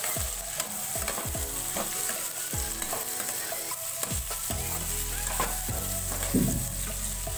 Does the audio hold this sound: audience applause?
no